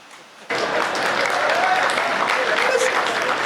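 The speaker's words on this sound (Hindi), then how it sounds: "इतनी तालियां बहुत है।" Loud, sustained applause from an audience at a Hindi comedy poetry gathering, bursting in abruptly after a brief quiet moment and continuing steadily as dense clapping.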